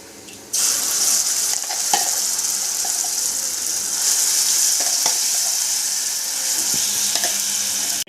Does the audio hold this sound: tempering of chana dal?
yes